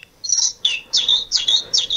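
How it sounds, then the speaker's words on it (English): A toy bird chirps in five quick bursts of high, bright tweets, close by and heard alone with no talking. "It's some toy bird my brother has."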